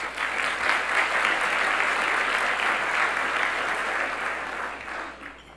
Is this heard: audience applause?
yes